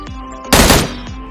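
A quick burst of automatic gunfire erupts in the mobile battle royale game PUBG Mobile, a loud, short rattling volley of several close shots over a steady background game hum.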